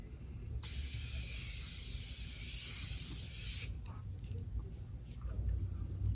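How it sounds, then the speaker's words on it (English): A steady, close aerosol spray hisses for about three seconds, then stops, followed by a few faint clicks and quiet rustling. "Actually, we can spray it on our face now."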